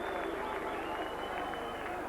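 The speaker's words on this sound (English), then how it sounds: "Superb try, and the Knowsley Road fans applaud that" Rugby league fans at Knowsley Road applaud a try during the 1982 Kangaroo tour. A dense, continuous crowd roar of clapping and cheering fills the ground, with a commentator talking over it throughout.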